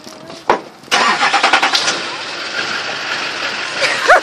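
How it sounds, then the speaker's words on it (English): A car engine cranks with a quick series of rhythmic turns, catches, then settles into a steady idle close by, with a short voice just before it starts. "I'm going to start the car"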